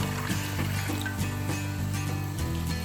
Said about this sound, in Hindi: 1 कप पानी,